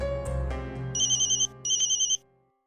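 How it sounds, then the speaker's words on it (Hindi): A phone rings twice in a repeating electronic trill while a conference call is being placed, each burst lasting about half a second before the line goes quiet. "मैं टीटी को कॉन्फ्रेंस पर लेती हूँ"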